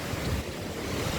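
The main waterfall at Lwang, a Himalayan eco village near Pokhara, roars as a continuous broadband wash, mixed with gusty wind buffeting the microphone. It is fairly quiet and steady, with no voices.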